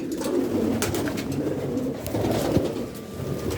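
Racing pigeons coo together inside a loft, soft overlapping throaty calls layered over one another, close and continuous, with occasional wing flutters and small knocks and no talking.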